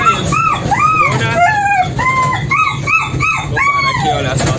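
A small female puppy inside a car barks, yips and whimpers repeatedly in high, rising cries, loud and close, over a steady engine rumble.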